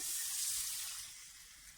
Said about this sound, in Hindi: 1 कप पानी डाल दिया मैंने।